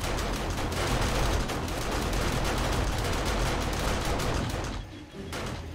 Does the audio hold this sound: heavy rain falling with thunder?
no